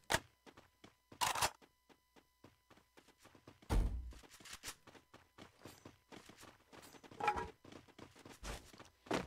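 Footsteps in the Free Fire video game land as a run of close, dull thuds and thumps in uneven rhythm, with several louder impacts between quieter steps.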